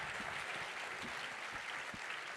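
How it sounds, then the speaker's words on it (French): Audience at an alumni awards ceremony applauds the jury seated in the front row, a steady, fairly distant wash of many hands clapping. "je voudrais qu'on applaudisse le jury qui est au premier rang"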